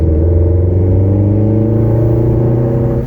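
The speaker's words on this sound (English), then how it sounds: "All right, I'm gonna downhill full throttle, see what it does." Nissan Sentra SE-R Spec V engine with a suspected blown head gasket, driven downhill at full throttle, a loud, sustained droning rumble with a strained, uneven tone that does not climb.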